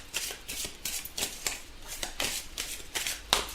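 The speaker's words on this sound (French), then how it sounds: "Alors, on va tirer une carte pour voir le conseil." Tarot cards being shuffled and drawn for a daily reading, giving a run of quick papery riffles and soft slaps at a steady, close-up pace with no talking.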